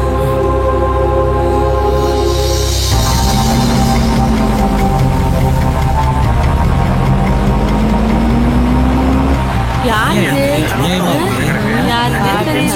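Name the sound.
vehicle engine running as it turns, in a movie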